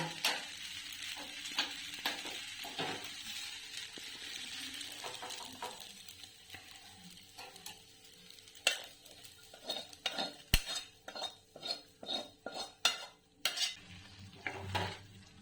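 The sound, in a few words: pasta being stirred and mixed into white sauce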